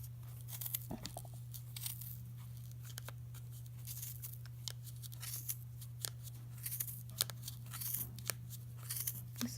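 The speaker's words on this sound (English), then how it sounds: "Just cut this yarn off." Scissors snip through crochet yarn with a few light, crisp cuts and rustling close by, over a steady low hum and faint handling noise.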